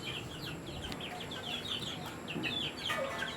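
Chickens cluck steadily at feeding time on a farm, a flock of overlapping short calls and chirps close by, with a brief rooster-like call near the end and no talk.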